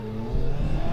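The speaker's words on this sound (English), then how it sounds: "Here he is, the GR Auto Care Nissan Pulsar GTIR." A Nissan Pulsar GTiR rallycross car at Pembrey races past, its engine a loud rising howl over a brief moment with a steady tonal drone.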